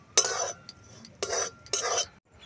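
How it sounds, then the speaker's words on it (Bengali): Rice flour being stirred and fried in ghee in a pan, heard as three separate scraping strokes of a spoon against the pan, close and crisp with a faint sizzle between them. "ঘির সাথে চালের গুঁড়োটা ভালো করে মিক্স করে নিতে হবে, ভালো করে ভেজে নিতে হবে"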